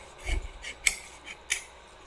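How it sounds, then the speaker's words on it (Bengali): A blade slices through a sweet pumpkin, giving three crisp, close cutting crunches spaced about half a second apart in an otherwise quiet home kitchen. "তো এটা এখন মিষ্টি কুমড়া কাটতেছি"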